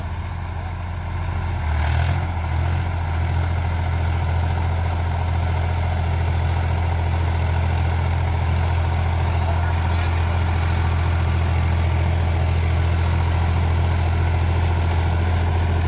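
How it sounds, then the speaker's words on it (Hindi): A Mahindra Yuvo 40 HP tractor pulls a seven-foot rotavator through soil, its heavy diesel engine droning loud and steady, rising slightly in load early on and then holding a constant rumble with no talk. "सात फुटर रोटावेटर है चालीस एच पी के ट्रैक्टर है भाइयों महिंद्रा यूवो टच प्लस चार सौ पॉइंट ही है"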